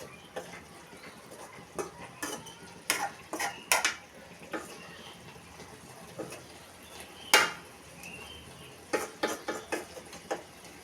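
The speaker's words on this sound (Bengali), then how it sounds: "মাছগুলো উল্টি পাল্টি আর একটু কষিয়ে নিব" Fried bata fish is stirred and turned in spices in a pan, with sharp metallic scrapes and clinks of a utensil against the pan at irregular intervals, close and fairly quiet, with no talking.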